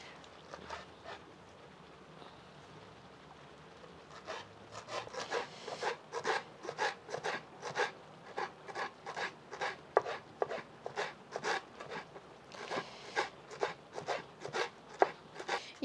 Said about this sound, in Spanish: ya voy a empezar a picar la cebolla y el cilantro